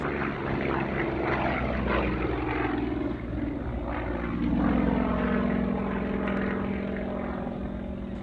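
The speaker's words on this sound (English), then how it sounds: "Here is the Yak-52, a competition aerobatics and intermediate level training aircraft which first flew in 1976." A Yak-52 aerobatic training aircraft flying at the Warbirds Over Scone 2022 airshow, its piston engine and propeller droning loudly and steadily with shifting pitch as it passes, heard without talk.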